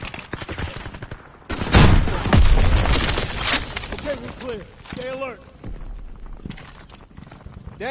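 A grenade blast in the World War II shooter Call of Duty WWII lands as a loud burst amid scattered gunfire, followed by shouting soldiers' voices over continuing battle noise.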